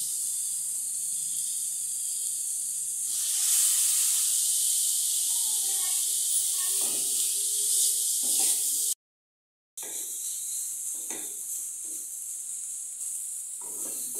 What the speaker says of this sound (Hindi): चिकन हल्का सा लाइट फ्राई कर लूंगी मैं, अदरक लहसुन डाल करके इसमें हल्का सा फ्राई कर ली मैंने।